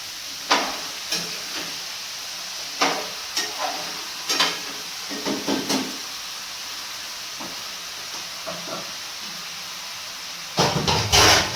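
Pumpkin sabzi sizzles in a pan with a steady frying hiss, broken by intermittent scraping stirs, then a louder burst of sizzling at the end; no one talks.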